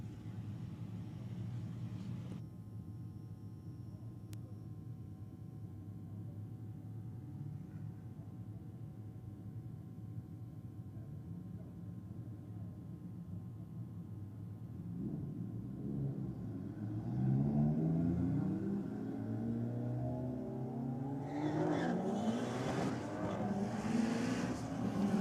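BMW and Evo cars racing from a roll at a drag event, a steady low engine rumble building louder toward the end with rising revs as the cars pull away.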